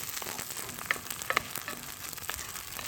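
Onions and chorizo sauteing in a pan outdoors for a chili relleno casserole, a faint steady sizzle with a couple of small pops and clicks, no talking.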